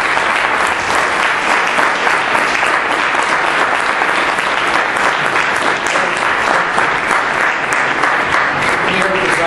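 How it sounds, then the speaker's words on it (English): Sustained applause from an audience at a congressional candidates' debate, a dense, steady clatter of many hands clapping for the full length without letup. "And first, a big round of applause for the young Democrats."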